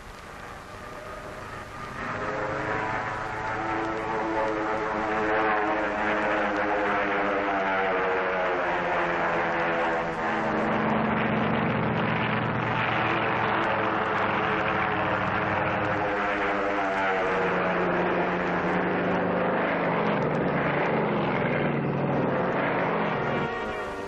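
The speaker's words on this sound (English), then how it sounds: "the drone aircraft are launched and temporarily guided from the carrier" Steady droning engine hum of an unmanned propeller drone aircraft, launched from a carrier during the Operation Crossroads atomic tests, passing overhead, loud and continuous, swelling and shifting in pitch as it flies by.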